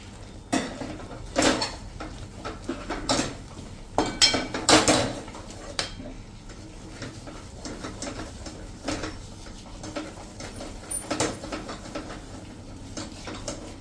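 Besan flour being stirred in ghee in a pan for mesub, with intermittent scraping and clinking of a utensil against the metal pan in short bursts over quiet background, with no voices.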